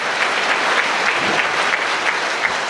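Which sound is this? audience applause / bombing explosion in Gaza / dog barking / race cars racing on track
audience applause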